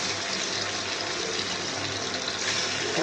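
Water is poured into spices frying in a pan while cooking a rohu fish bhuna, a steady, loud rushing hiss of liquid hitting hot oil that continues without a break.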